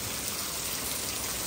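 Heavy rain pours down during a flooding storm, a dense, constant hiss of water that stays loud and even with no voices.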